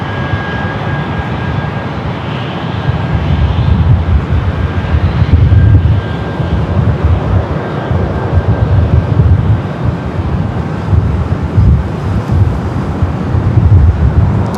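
A Delta Boeing 737-800 takes off from LAX runway 24L, heard as a sustained low jet engine roar from a distance mixed with wind buffeting the microphone.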